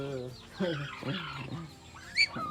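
Hens cluck on a small farm near a brooding mother hen, with short, pitched, repeated calls and one sharper squawk, heard fairly close against a quiet background.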